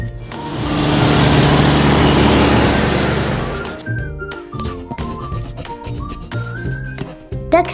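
A freight truck engine roars close and steady for nearly four seconds with a rushing, whistling edge, then fades out as music takes over.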